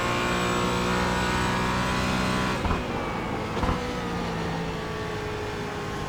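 Porsche Cayman GT4 engine at Sebring in the iRacing sim, a loud, steady high-revving drone from onboard that dips briefly at a gear change before pulling hard again.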